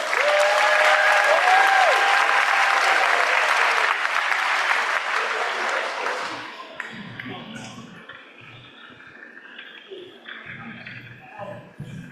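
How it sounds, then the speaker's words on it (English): A school audience claps for an upper school vocal group at a Thanksgiving program, with dense, loud applause for about six seconds before it thins into scattered claps and quiet room noise. "Let's give them a round of applause."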